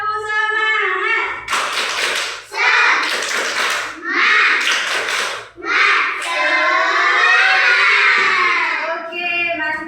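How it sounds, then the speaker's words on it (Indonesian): A class of second-grade children at school chant the 'tepuk semangat' rhythm together, voices loud and close, broken by bursts of sharp group clapping in short patterned sets between the sung lines. "Tepuk semangat."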